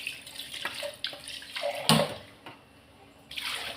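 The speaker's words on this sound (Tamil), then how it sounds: "கொஞ்சமாக தண்ணி ஊற்றி" A little water is poured into a pan of garlic kuzhambu, giving soft splashing and trickling bursts with a sharper splash midway, close and moderately quiet, with no talking.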